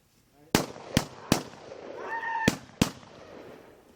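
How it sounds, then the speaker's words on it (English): Five loud, sharp gunshots ring out during a sheriff's office critical incident, spaced unevenly over a few seconds with echoing tails, and a brief honking or shouted sound rises between the later shots. "Central 455, shots fired."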